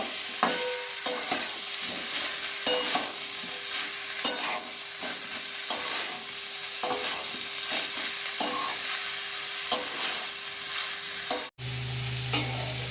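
Banana flower mocharghant being sautéed in a pan, a steady hiss of frying under regular scraping stirs of a spatula, close and continuous, with a brief break near the end and no speech.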